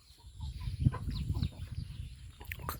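Backyard chickens at a rural Thai home clucking softly in the early morning, a few faint, scattered calls close by against a quiet background.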